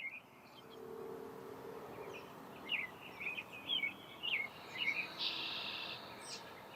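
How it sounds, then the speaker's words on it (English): Short, bright bird chirps and trills repeat over a steady outdoor hiss, fairly faint and somewhat distant, with a low background hum. "Maybe you can hear the birds from my end."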